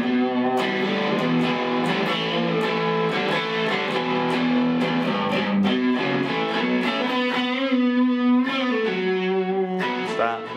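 An electric guitar played through an overdrive pedal gives a classic-rock crunch, with sustained chords and picked notes ringing loud and continuous.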